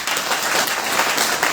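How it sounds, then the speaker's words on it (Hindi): A young crowd at a Bhim Army rally claps in a dense, continuous burst of applause, loud and close throughout. "ये युवा जो ताली बजा रहे हैं"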